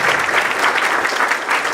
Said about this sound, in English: But first, to Ms. Edwards, let's give her a round of applause.